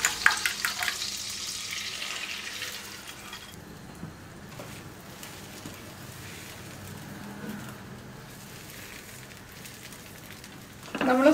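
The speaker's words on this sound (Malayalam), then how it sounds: "ഇതിലേക്ക് നമുക്ക് ബീറ്റ് ചെയ്ത് വെച്ചിരിക്കുന്ന മുട്ട ഒഴിച്ചു കൊടുക്കാം" Beaten egg poured into melted butter in a pan sizzles loudly at first, then settles into a steady, softer frying hiss with no voices.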